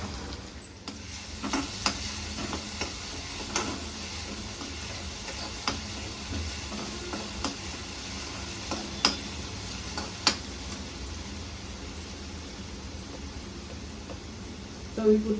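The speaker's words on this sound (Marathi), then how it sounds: "लसूण आणि मिरची चांगली परतून द्यायची" Garlic and chili sauté in a hot pan, a soft steady sizzle with scattered ticks and clinks of a spoon stirring, fairly quiet throughout.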